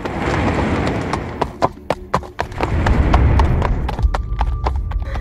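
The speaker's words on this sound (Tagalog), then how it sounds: "parang padyak ng kabayo" Horse hooves clip-clop as a sound effect in a Tagalog audio drama, a loud, close series of sharp hoofbeats in an uneven trotting rhythm, alone without talk.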